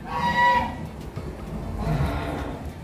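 A very large cow at a livestock show in Central Java gives a loud, deep moo up close, followed by a second, lower and longer lowing call after a pause.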